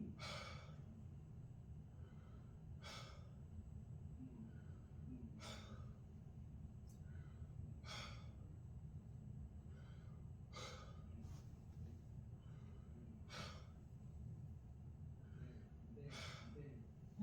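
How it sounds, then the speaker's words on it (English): A patient breathes deeply in and out through an open mouth during a head-to-toe physical assessment, about seven slow, regular breath cycles heard close up over a steady low background hum. "Now you take a deep breath in and out with your mouth open."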